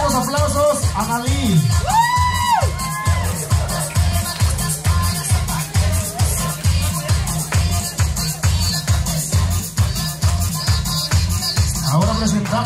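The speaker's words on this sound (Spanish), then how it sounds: "Vamos a darle fuertes aplausos a Nalí." A crowd at a quinceañera cheers and whoops with loud shouts and high calls, set over a pounding, steady dance beat, with a few voices rising above the din.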